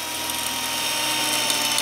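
A power drill runs steadily with a left-hand bit from Harbor Freight, boring through metal on a long-abandoned Cobra Mustang, a continuous high whine close by with no pauses and no voices.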